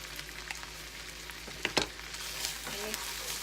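Fresh lemongrass and ground coriander sizzle in a hot pan with a steady, close crackle, while a spoon scrapes and stirs through them with a few louder clanks around the midpoint.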